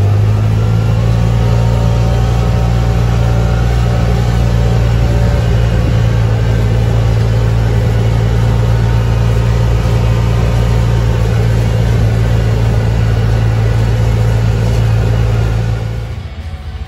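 A Scag Patriot lawn mower with a 52 inch deck runs with a loud, steady, close engine drone that holds evenly for a long stretch, then starts to fade at the very end.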